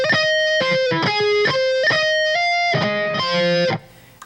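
Distorted electric guitar playing the tag from a song's intro, a fast run of hammer-on and pull-off notes repeating in a tight pattern, loud and close, ending abruptly with no talk.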